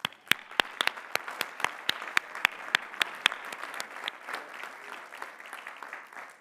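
An audience at a graduate commencement and doctoral hooding ceremony applauds master's degree recipients, sharp individual claps standing out at first over a broad wash of clapping that gradually thins and softens.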